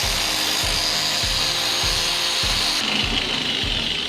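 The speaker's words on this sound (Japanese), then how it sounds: "あとは斜めに削って貝先っていうんですかねを作って溶接がしっかりつくような下処理をしたいと思います" A power grinder bevels the edge of a steel plate for a butt weld in a garage, a loud continuous abrasive whine with regular pulsing strokes about every half second, close and alone.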